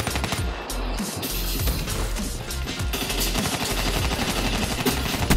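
Sustained assault rifle fire in the video game Black Ops 3, dense rapid automatic shots with crashes and game effects running continuously and loudly.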